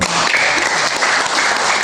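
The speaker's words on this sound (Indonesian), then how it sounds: "Tepuk tangan dulu." A crowd applauds steadily, dense clapping sustained throughout without pause.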